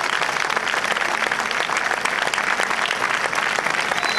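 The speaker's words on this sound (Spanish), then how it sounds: "Vamos a darle un aplauso." An audience at a 2014 tribute evening in Benidorm claps steadily and loudly for about four seconds, a dense sustained applause with no break.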